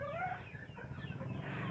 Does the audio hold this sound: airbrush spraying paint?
no